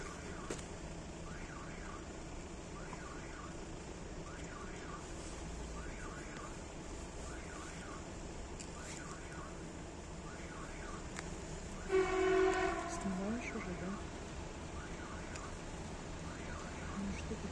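A diesel passenger train rolls slowly toward the Jaunogre stop, its engine a steady low rumble, joined by a repeating warning tone and a brief louder horn-like burst midway, with faint voices in the background.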